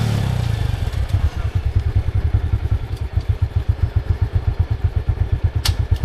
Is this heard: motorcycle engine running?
yes